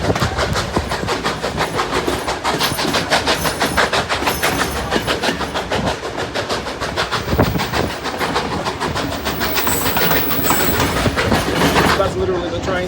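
A steam train rolls past on the rail track at a heritage steam festival, with rapid clickety-clack of wheels over rail joints, loud and continuous, and some voices mixed into the din.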